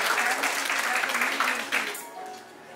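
Audience applause sends off award-winning cake artists at a Bulgarian cake art ceremony, a moderate burst of clapping that fades out toward the end.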